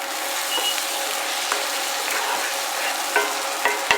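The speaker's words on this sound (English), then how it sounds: "Next, I'm going to go ahead and put my peppers in." Peppers fry on medium-high heat in a pan for sweet potato noodles with chicken, giving a loud, steady, close sizzle with occasional sharp clicks and taps, no talking.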